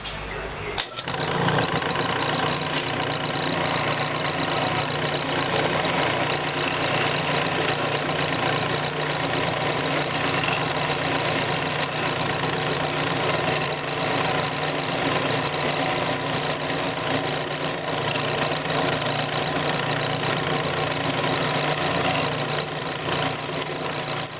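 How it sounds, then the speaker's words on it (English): A wood lathe spinning a pen blank while a skew chisel cuts it, giving a continuous, even motor drone with a steady whirring tone that runs unbroken throughout. "So I switched over to my skew, and that seems to work a lot better."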